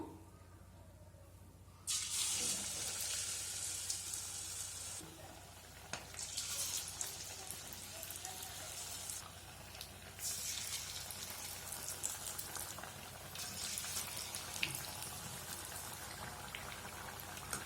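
Gram-flour-batter-dipped capsicum bajji fry in hot oil with a steady, dense crackling sizzle that jumps louder as pieces drop in and holds without pause.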